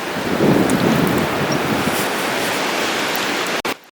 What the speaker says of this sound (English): you can hear the wind in the trees there